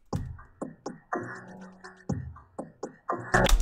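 Halftime-processed percussion loop from the Producer Grind drum kit, slower spaced hits with a darker, heavier low end, repeating steadily alone before a dense loud burst at the end.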